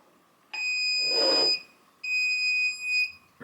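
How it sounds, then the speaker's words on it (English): Two high electronic beeps sound close and clear from a clay pigeon trap release remote control receiver, the first longer with a short rustle over it, the second following after a brief gap. "The remote control beeps, confirms it's now programmed."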